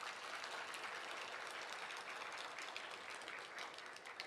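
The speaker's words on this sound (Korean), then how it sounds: "박수, 박수, 박수." Church congregation applauding steadily throughout, a dense, continuous clapping from a large crowd filling the room without pause.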